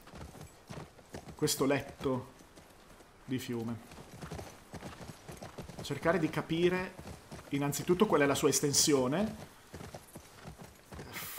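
Horse hooves clip-clop steadily while riding through The Last of Us Part II, running under continuous male speech in Italian.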